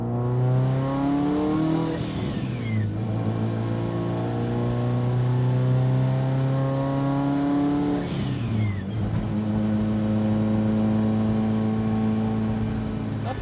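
A Subaru STI engine with a vented-to-atmosphere top-mount setup revs hard twice, each climbing, sustained roar ending in a sharp release, loud and close with no talking.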